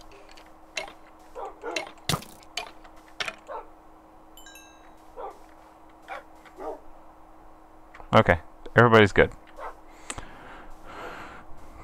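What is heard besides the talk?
dogs barking in unison in the Adventure Time video game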